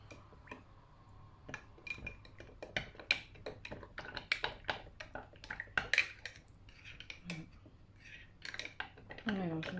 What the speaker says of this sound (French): Nous allons mélanger.